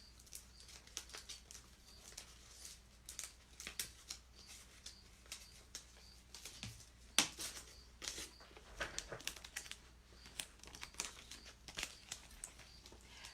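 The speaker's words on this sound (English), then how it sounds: "peeling my vinyl off." Transfer tape peels slowly off cut vinyl in soft crackling, fluttering bursts with small sharp snaps, close and quiet, with no one talking.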